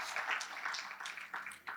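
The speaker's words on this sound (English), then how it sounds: "So please, let's give ourselves a big round of applause." Applause from a sales growth summit audience, a steady crackling wash of many hands clapping at moderate distance, continuous and fairly soft throughout.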